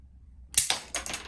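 A toy spider web shooter firing, a quiet lead-in followed by two quick sharp snapping pops close to the microphone, the second trailing into a short rattle.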